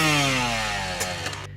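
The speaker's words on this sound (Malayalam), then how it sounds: "ഇത് 2 സ്ട്രോക്ക് എഞ്ചിൻ്റെ സൗണ്ടാണ് ആദ്യം കേട്ടത്." A two-stroke engine runs loud and close with a buzzy, steady drone that slowly drops in pitch as it eases off, followed by a couple of brief clicks near the end.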